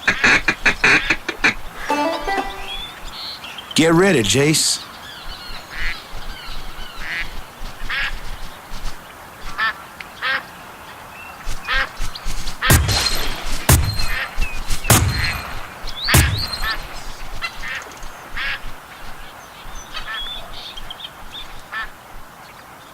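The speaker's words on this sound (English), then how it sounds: "Hey, there's some ducks coming in." Ducks quacking in the Duck Dynasty hunting video game, several bursts of calls coming in over an outdoor ambience, with sharp gunshot cracks and a brief spoken line mixed in.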